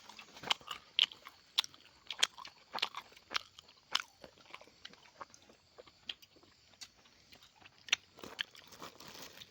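Soft, close crunching and biting with irregular chewing clicks as people eat food outdoors in the forest, with no talking.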